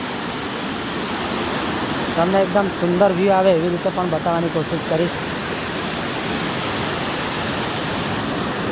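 A small waterfall in a forest rushes with a steady, broad roar, while someone speaks briefly over it in the middle.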